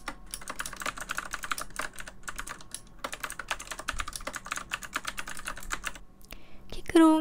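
Rapid, steady typing on a Keychron K3 Retro low-profile mechanical keyboard with blue switches, crisp clicky keystrokes in a dense run, close up, with a brief higher tone at the very end.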